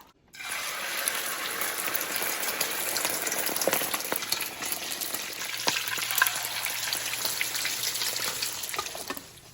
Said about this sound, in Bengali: তেলটা গরম হয়ে গেছে ডিমটা তাড়াতাড়ি ফেটে ভেজে নিই